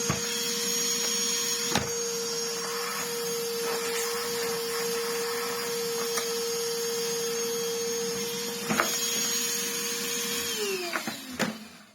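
A Miele S6000 Cat & Dog vacuum cleaner runs on boost with a steady, high motor whine and airflow rush, a few knocks and clunks over it, before the motor winds down at the end.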